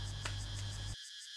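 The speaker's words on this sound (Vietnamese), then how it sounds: "Khi nghe tiếng ve sầu râm ran cất tiếng gọi hè" Cicadas buzz in a mangosteen orchard beside the Cái Bé river, a loud, steady high-pitched drone with insect chirring that drops away abruptly near the end, leaving near silence.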